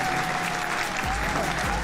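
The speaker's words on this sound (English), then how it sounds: "So round of applause for you folks." Applause sound effect played on a Microsoft Flight Simulator livestream, a short burst of steady clapping lasting under two seconds with a faint tone running through it.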